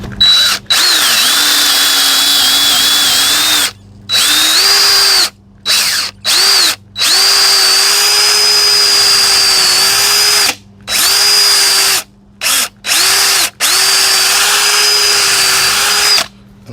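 Power drill boring a hole in hardwood for a 3/8-inch dowel, running in long sustained whining bursts with short stops and restarts, loud and close with no talk.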